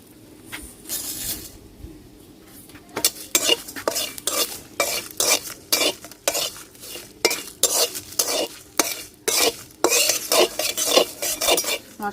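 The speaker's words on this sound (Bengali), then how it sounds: "তেজপাতা আর শুকনো মশলা হালকা ভাজিয়ে নিছি এখন বাকি মশলা দিয়ে দিব" Bay leaves and dry spices are stirred and fried in a pan for a sour-spicy-sweet olive pickle, a steady run of quick scraping strokes of a spoon against the pan over a soft sizzle, with no voices.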